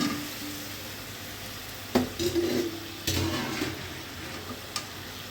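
Pointed gourd, potato and eggplant stir-fried in a spice mixture in a pan, giving a steady sizzle with a couple of sharp spatula scrapes and clicks partway through.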